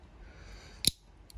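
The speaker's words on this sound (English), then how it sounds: "Hear that clicking system?" Beyblade Ultimate Valkyrie parts being snapped together, a single sharp plastic click near the middle followed by a faint second tick, close and crisp over quiet room tone.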